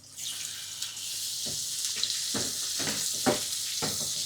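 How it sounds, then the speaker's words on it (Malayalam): Prawns frying in melted butter over a low-to-medium flame, giving a steady close hiss with a few sharper crackling bursts and no talk. "ബട്ടർ മെൽട്ടായി കഴിഞ്ഞാൽ നമുക്ക് കുറച്ച് പ്രോൺസ് അതിലേക്ക് ഇട്ട് കൊടുക്കാം"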